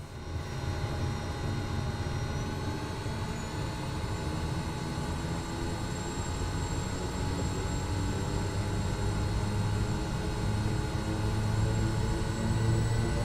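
Steady, droning propeller engine of a Kodiak 100 aircraft in Microsoft Flight Simulator, heard from the cockpit as a constant hum with a faint rising whine and no talk.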